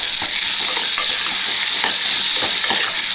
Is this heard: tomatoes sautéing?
yes